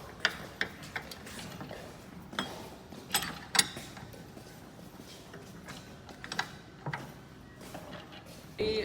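An offset double ring wrench works a bolt or nut, giving faint, intermittent metallic clicks and ticks scattered across a quiet background.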